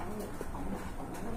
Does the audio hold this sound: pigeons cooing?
yes